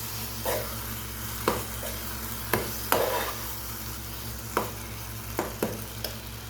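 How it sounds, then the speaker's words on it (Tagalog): Eggplant with shrimp paste, garlic powder and sugar is stirred in a pan, with a spatula scraping and tapping the pan every second or so over a steady low sizzle, close, with no talk. "Continuous lang natin yung paghahalo para hindi masunog sa ilalim"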